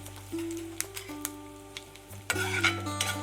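Red chilies and asafoetida being sautéed in a pan for raw-mango methamba, faint sizzling with spoon taps and clinks against the metal, a sharper burst of scraping and frying toward the end.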